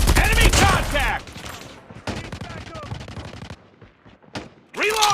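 Rapid automatic gunfire in a Call of Duty 3 vs 3 gunfight crackles in loud, dense bursts, broken by short gaps and quieter stretches, while voices shout over the shooting.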